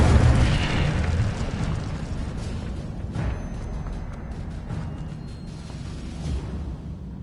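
A fire spell cast in the video game Hogwarts Legacy bursts out as a loud, close roaring whoosh, holding a dense rumbling blast for several seconds before slowly easing off, with no voices.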